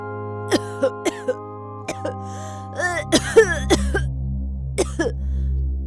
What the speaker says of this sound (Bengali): তখনই ওর মা জোরে কাশতে লাগলো।